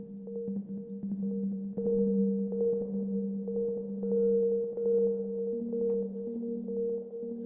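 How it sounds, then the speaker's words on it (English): Ambient synth tones from a generative patch in Ableton Live, playing random slow notes in a minor pentatonic scale, with steady sustained pitches and a ping pong delay echo repeating them in a soft continuous wash. "because of the delay of and the echo in ping pong"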